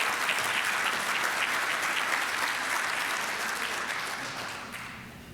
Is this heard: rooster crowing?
no